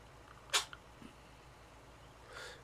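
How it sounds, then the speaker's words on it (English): A cat washing herself lets out one sharp, sudden sneeze, followed by a couple of faint small clicks and a soft rustle in an otherwise quiet room. "I think she's making herself sneeze"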